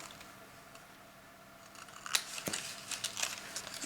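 Scissors snip through material for a book nook project, a few sharp close cuts after a quiet stretch of faint rustling, the snips and crinkles clustered near the end.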